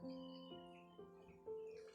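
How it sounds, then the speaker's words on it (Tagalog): A wild bird passing by gives a few faint, repeated calls about every half second, distant and alone with no talk. "may ibon dumaan mga tol"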